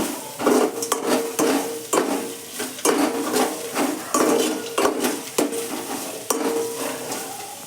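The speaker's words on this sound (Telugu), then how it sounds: "పచ్చిమిరపకాయ క్యారెట్ వేసి ఒక్కసారి తిప్పుకోండి" Green chillies and carrots stirred in a hot pan: a close, rhythmic run of scraping spatula strokes about once a second over a steady sizzle, with light metallic clinks between strokes.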